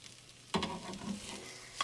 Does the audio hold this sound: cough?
no